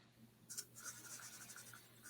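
Someone imitates twigs snapping and grass rustling with the mouth, producing short breathy scraping bursts that follow a brief quiet pause, all heard alone and close.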